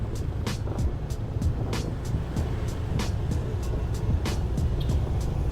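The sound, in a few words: traffic jam on the road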